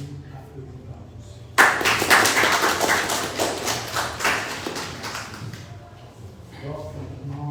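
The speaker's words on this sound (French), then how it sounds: "Soit ainsi applaudi par tous." Applause breaks out from an audience at a research management workshop, starting abruptly as brisk clapping, then fading over several seconds while voices murmur in the room.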